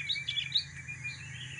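Sooty-headed bulbul (kutilang) chirping in short, bright bursts of several quick notes, fairly close and moderately loud over a low steady background hum.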